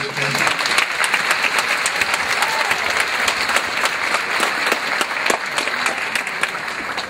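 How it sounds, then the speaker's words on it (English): Sustained applause from a community college commencement audience, steady dense clapping filling the hall for several seconds with no pause. "I'd like to just give them a round of applause."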